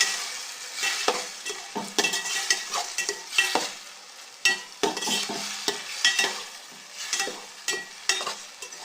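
Tomato gravy ingredients sautéing in a pan with an irregular series of close scraping stirs over a soft continuous sizzle, spoon strokes coming every second or so.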